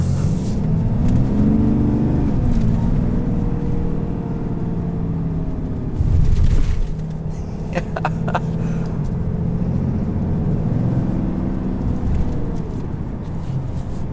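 A 2020 Ram 3500HD Laramie with the high-output Cummins diesel and dual rear axles rumbles along the road, a steady deep engine drone heard from inside the cab with small swells as it pulls.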